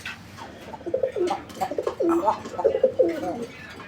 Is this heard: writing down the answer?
no